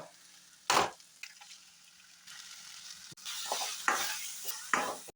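Egg frying in a pan with capsicum, garlic paste, turmeric and garam masala, quiet sizzle punctuated by a few loud scrapes and clinks of a spatula stirring.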